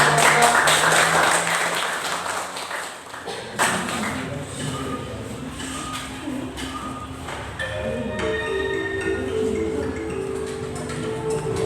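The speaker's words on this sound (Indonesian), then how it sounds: "Kita kasih tepuk untuk semua." Applause in a classroom after a balloon static-electricity demonstration, a steady dense patter of clapping across the whole stretch with a few taps and clinks and scattered voices underneath.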